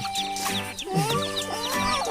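Small chicks in a Thai farmyard setting peep and cluck repeatedly while being chased, a steady run of close, fairly loud chirping calls with overlapping high notes throughout.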